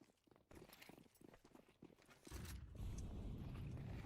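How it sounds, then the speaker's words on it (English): Faint horse hooves clip-clop in an even, unhurried rhythm on the Counter-Strike Inferno map, with a few quiet knocks before a low ambient wash swells up and covers them. "Why are we just in CT spawn and I hear a horse"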